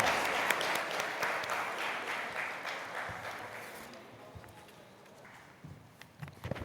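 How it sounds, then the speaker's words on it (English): Audience applause at a corporate awards event, a steady broad wash of clapping that swells early and gradually fades, ending with a few scattered claps and light thumps. "Can we have a round of applause, sir?"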